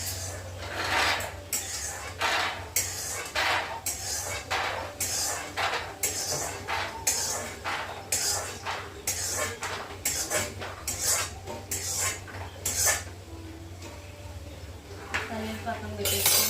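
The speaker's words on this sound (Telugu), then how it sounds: "పల్లీలు బాగా ఫ్రై అయిపోయినాయండి. అరగంట తీసుకొని ప్లేట్లో తీసేస్తున్నాం." Fried peanuts scooped from a pan onto a plate, with repeated close metallic scrapes and clinks of utensil against cookware in an irregular rhythm.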